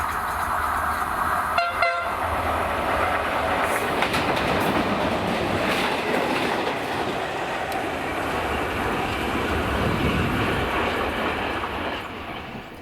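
A freight train in Scotland hauled by a pair of Class 90 electric locomotives passes close by, a steady loud rumble of wagons with rhythmic clicking and a short horn-like tone near the start.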